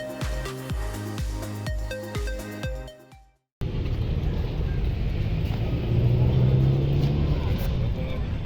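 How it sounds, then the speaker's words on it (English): Busy street traffic in São Paulo, a steady roar of cars rumbling past close by after a brief stretch of music that cuts off, with engines swelling louder toward the end. "I have to wait for the traffic to cross to go to the other side."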